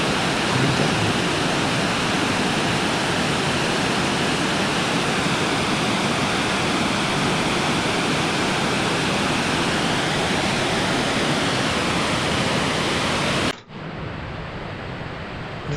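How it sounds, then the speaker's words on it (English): Water cascades down a series of weirs below a large earth clay dam at an upland reservoir, making a loud, steady, roaring rush that continues without a break until the sound shifts abruptly near the end. "Now showing two of the weirs moving down, so it's like a cascade of water."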